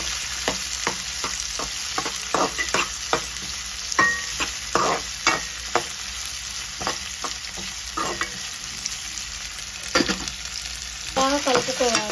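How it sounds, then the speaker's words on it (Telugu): Ivy gourd curry frying in a pan, with a constant sizzle broken by repeated scraping stirs of the spoon throughout. "బాగా కలుపుకోవాలి. అలాగే ఇది కూడా మంచిగా ఫ్రై అవ్వాలి."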